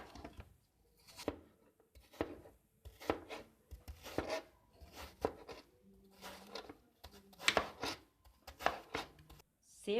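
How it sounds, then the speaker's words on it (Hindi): A knife cuts through a peeled apple for a mixed vegetable salad, giving repeated crisp, close chopping strokes at an irregular rhythm, with brief quiet gaps between the cuts and no talking. "सेब को काट लेंगे।"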